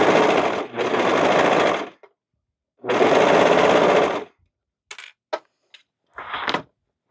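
A sewing machine stitches a cocoon cardigan in two bursts of rapid, steady needle chatter, followed by a few short clicks and one brief final run.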